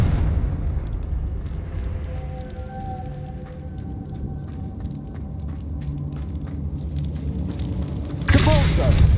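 A Confringo spell bursts in Hogwarts Legacy with a heavy rumbling explosion and a rolling boom that fades, then a sharp loud blast near the end.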